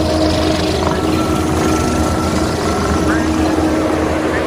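A 2023 Kubota SVL97-2 compact track loader with a forestry package, high flow and 370 hours runs steadily close by, a loud, even diesel rumble with a low droning tone and constant broadband roar.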